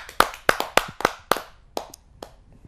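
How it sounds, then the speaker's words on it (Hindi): A handful of sharp, separate hand claps at a Hindi kavi sammelan poetry gathering welcoming a poet, sparse and uneven, thinning out and fading after a couple of seconds. "मैं उनका जोरदार तालियों से स्वागत करता हूं इस चौपाल।"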